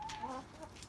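Chickens in an urban backyard coop in Houston cluck softly and faintly nearby, with a few short tonal calls over a low background hum.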